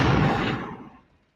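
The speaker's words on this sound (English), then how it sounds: "Can you drop my bomb real quick?" A bomb explosion sound effect dropped into a podcast starts as a loud, full-bodied blast and decays into a rumbling tail that fades out over about a second.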